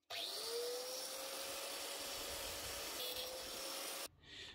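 An angle grinder spinning up at 12,000 rpm with soft start and cutting through a long threaded rod, a loud steady whine with harsh grinding noise that holds for about four seconds before cutting off abruptly.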